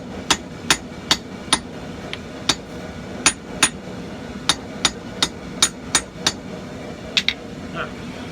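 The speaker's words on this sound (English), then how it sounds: "then take a hammer and upset it just like I would if I was making a nail." Sharp metallic hammer blows upset the end of hot rivet stock one after another in a steady rhythm, about fifteen ringing hits with brief pauses, close and loud.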